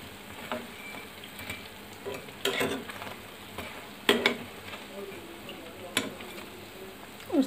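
Food fries and sizzles in a pan as a utensil stirs it, producing a constant close sizzle broken by periodic scraping strokes every second or two.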